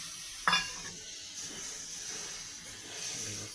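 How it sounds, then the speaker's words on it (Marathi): Dried fish (sukat) drops into spice masala in a pan on low heat, a soft thud followed by a faint, steady sizzle and hiss that continues quietly. "आणि आता ही सुकट आहे ती मी टाकते."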